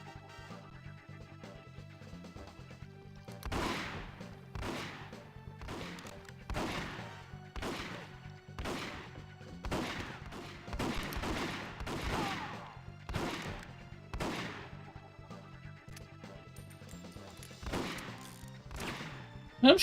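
Gunfire in the 007 The World Is Not Enough video game: about a dozen loud, sharp bangs at a fairly regular pace, each one ringing out over a low background hum.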